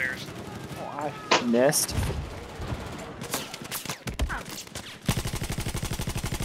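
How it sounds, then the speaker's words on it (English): Two light machine guns hammer out rapid sustained bursts during a video-game battle, loud and close, mixed with scattered shots and explosions, and a player talks briefly over the chaos. "Mercilessly being gunned down by two LMGs."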